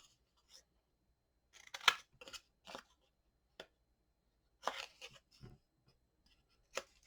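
Paper being trimmed for a Carta Bella Flower Garden folio craft project: a handful of sharp, dry cutting snips and crunches, separated by quiet pauses, close and fairly faint.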